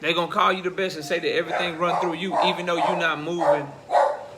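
A dog barking indoors in the background, partly buried beneath someone talking continuously in the foreground.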